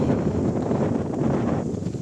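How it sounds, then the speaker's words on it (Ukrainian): Strong wind roars steadily through a village street in the Poltava region, a constant low buffeting rush that fills the whole stretch without a break. "вітер дуже сильний"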